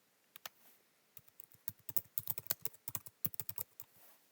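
Someone types a search on a computer keyboard, a close run of quick, uneven key clicks that grows denser toward the middle, with no talking.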